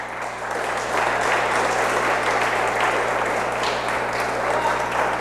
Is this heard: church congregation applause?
yes